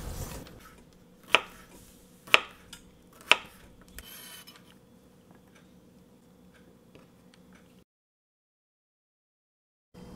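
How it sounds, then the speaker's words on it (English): Knife chopping through cucumber on a cutting board in a home kitchen, prepared for Vietnamese beef spring rolls: three sharp, evenly spaced chops, close and clear over a quiet background, then silence. "Cut the cucumber."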